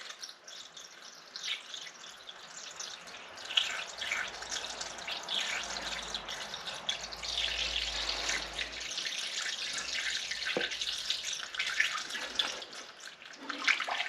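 Old green antifreeze is poured into the cooling system of a 1931 Ford Model A coupe fitted with a Ford 2.3L engine. The liquid splashes and trickles steadily for about fourteen seconds, with occasional distinct drips and no talking.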